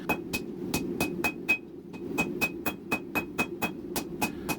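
Hammer blows ring out in a rapid, even rhythm on the steel tang of a hidden-tang knife forged from ball bearings, each strike a sharp metallic ping over a low forge roar, no talking.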